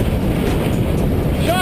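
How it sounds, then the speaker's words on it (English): Strong wind of a gust front roars steadily across the microphone, a loud, continuous low buffeting rush with no break through the whole stretch. "Oh, look at that wind."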